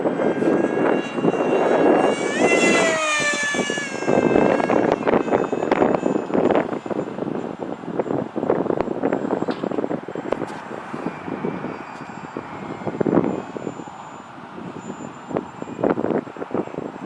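A Mini Dragon radio-controlled model plane flies under throttle on a windy day, its engine whining and buzzing with shifting pitch as it passes, with wind rumble on the microphone throughout.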